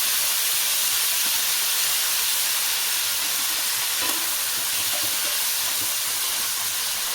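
Tomatoes and brinjal fry in a pan with a steady, dense sizzle and steamy hiss that holds even and unbroken throughout, with no voices over it.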